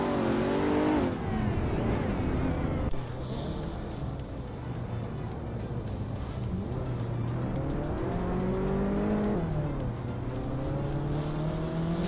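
Race cars in a racing video game roar and rev as they overtake one another, with engines climbing and dropping in pitch, some tire squeal and a constant loud motor drone for the whole stretch.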